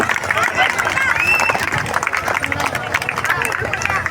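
A crowd claps and cheers at a school mandal-level sports meet, with dense applause and babble running throughout and voices talking over it.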